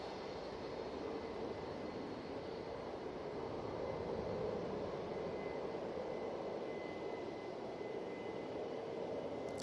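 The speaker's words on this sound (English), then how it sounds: "I've got a Ryanair over here now." A Ryanair airliner at Manchester Airport, heard as a steady, distant broadband engine roar that holds evenly throughout with no voices.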